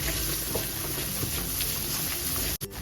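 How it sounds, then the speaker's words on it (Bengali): Cashew paste and spices sizzle in hot oil over a low-medium flame, a steady close crackling fry with faint spatters and a brief stir near the end. "লো টু মিডিয়াম ফ্লেমে এই কাজু বাদামটাকে কষে নিতে হবে যতক্ষণ না তেল ছেড়ে দিচ্ছে"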